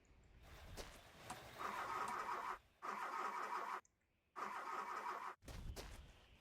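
Car engine in the video game The Long Drive repeatedly cranking but failing to start: several bursts of starter whirring separated by short silences, loud and close with no talk.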